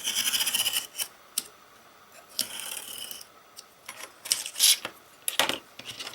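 A blade cuts through corrugated card, giving close scratchy rasping strokes in short irregular bursts separated by quiet pauses, with no talk.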